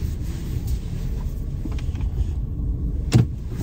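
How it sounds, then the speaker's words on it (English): A 2023 Honda HR-V EX-L, built on the Civic platform, idles and rumbles steadily through a slow multi-point turn, with a faint whirring mechanism and one brief louder thump near the end. "hopefully it shouldn't be too bad to do a multi-point turn here"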